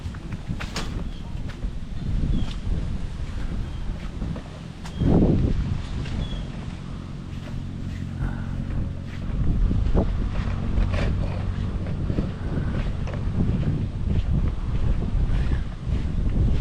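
Strong wind buffets the microphone in a constant low roar with gusts swelling and fading, loud and close throughout.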